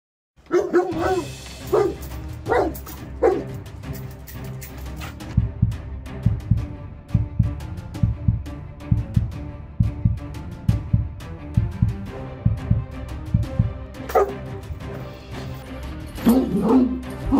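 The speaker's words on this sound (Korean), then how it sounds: "짖는 게 싫어." A large Cane Corso dog barks repeatedly, loud and close, with deep booming woofs in irregular bursts, some rapid clusters and brief pauses across the stretch.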